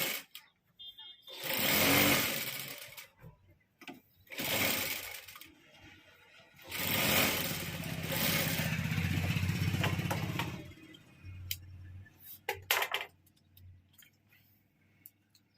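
A sewing machine stitches a Rajputi kurti in three loud, close whirring runs, with quieter clicks, knocks and handling noises between the bursts.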